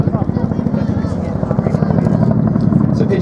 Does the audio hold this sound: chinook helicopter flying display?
yes